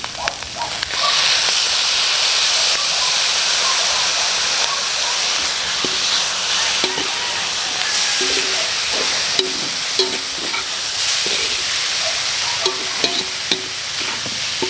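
Beef pastil sizzling hard in a pan just after soy sauce goes in, a loud continuous hiss and spatter with occasional scraping and stirring clicks, close up and with no talking.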